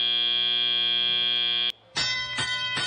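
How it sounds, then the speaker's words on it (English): A long, loud electronic buzzer at a 2016 robotics competition event, sounding for nearly two seconds, followed after a brief pause by a second harsh buzzing tone in a noisy arena. "There's the buzzer."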